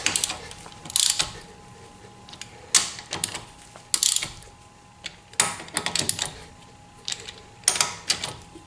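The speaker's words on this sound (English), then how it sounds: "I just ratchet it back to get back to that sweet spot so that I can put my weight into it" Ratchet wrench clicking in repeated short bursts while tightening lug nuts on wheel spacers fitted to a Tesla Model 3, close and loud with brief pauses between strokes.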